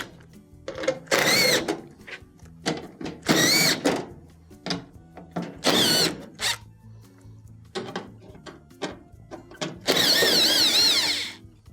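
A power drill backs 1/4-inch screws out of the back plate of a GE dryer, with repeated short whirring bursts separated by pauses and one longer final run, loud and close with no talk.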